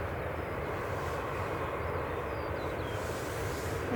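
An Aer Lingus airliner on approach to land at Manchester Airport makes a steady, broad engine roar that holds at constant loudness throughout, with no talk.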